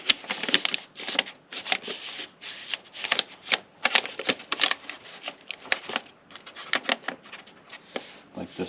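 A hand feels and slides over a paper template laid on rusted car body metal, producing crisp, irregular rustles and crinkles in quick bursts, close and fairly loud, with no talk.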